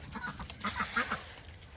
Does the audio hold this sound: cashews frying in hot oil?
no